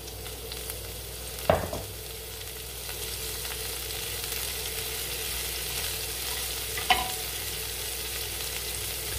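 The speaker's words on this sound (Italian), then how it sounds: "lo facciamo soffriggere bene e poi aggiungiamo gli agretti." Minced garlic and agretti sautéing in olive oil in a pan give a steady, even sizzle, with two brief sharp knocks of a utensil against the pan spaced several seconds apart; no voices.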